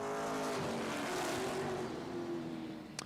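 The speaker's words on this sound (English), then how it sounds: "With a loud backfire from Schwemmler." Race cars at Grand Bend Speedway roar past in a loud, continuous engine drone with shifting pitch. A sharp, brief pop near the end could be a backfire.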